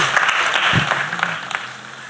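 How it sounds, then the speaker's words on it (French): A church congregation breaks into applause offered to Jesus during a testimony service, a burst of clapping that swells and then tapers off. "Clap offering to Jesus."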